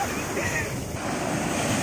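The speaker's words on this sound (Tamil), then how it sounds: "பெரிய அலை வருதான், என்னை கூட்டிகிட்டு போக போகுது." Ocean surf at Manjeshwar Beach in Kerala, a continuous broad wash of breaking waves mixed with wind buffeting the microphone, steady and fairly loud throughout.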